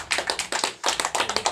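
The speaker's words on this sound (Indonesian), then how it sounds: "mari kita sama-sama tepuk tangan untuk kedua kelompok ini dulu" A small audience claps rhythmically for two groups at a training session, the claps coming in quick, close bursts that pause briefly around the middle before resuming.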